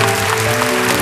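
A TV studio audience applauds at a 1977 French television show, L'École des Fans, producing a dense, steady wash of clapping that stays loud and even throughout, with no pause.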